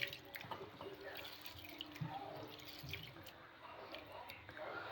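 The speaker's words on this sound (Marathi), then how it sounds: "असं 4 पाण्याने धुवून घेऊया." Urad dal and rice rinsed by hand in water for idli and dosa batter, soft swishing and dripping water at close range, fairly faint, with a voice speaking over it.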